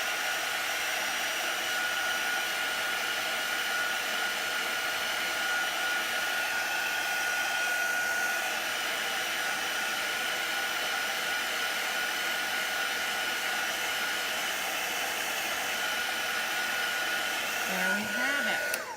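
Hair dryer drying chalk paste on a board, a steady close whooshing blow with a constant tone running unbroken for nearly twenty seconds before it is shut off at the end, no talk.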